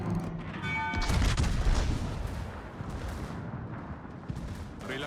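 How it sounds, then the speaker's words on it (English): Naval gunfire from warships in the World of Warships video game, with a heavy battleship salvo of booming shots rolling into a sustained rumble, loud at first and then easing off. "they are shooting him"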